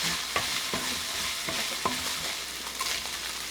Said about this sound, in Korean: 고기가 익으면 감자를 넣어 감자가 익을 때까지 볶아주세요